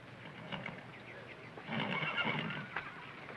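A horse whinnies in a short burst, then gives a longer, louder neigh with shaky rising and falling tones, heard fairly close with faint background noise.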